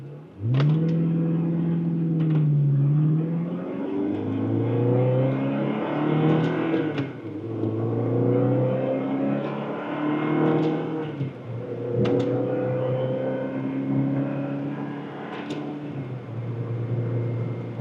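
A 2004 Ferrari 360 Spider engine revs up through the gears from first, pitch climbing then dropping at each shift, loud and close from inside the car, with no talking.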